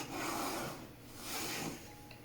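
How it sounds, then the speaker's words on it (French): Fresh plaster being scraped and cut by hand with a scrap piece, giving two slow rasping strokes, close and steady, with no talking. "Donc le plâtre frais, il se coupe assez facilement en général."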